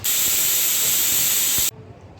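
A loud, steady hiss of steam bursts from a pressure cooker whistle, cooking cucumber-tomato dal, for under two seconds, then cuts off abruptly into quiet.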